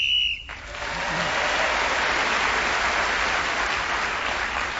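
Whistle blown on the radio panel game show Just A Minute: a short, shrill blast at the very start, quickly followed by sustained applause from the studio audience that fills the rest.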